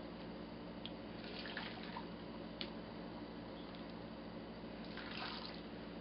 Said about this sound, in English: Scooping the water over into the crock pot.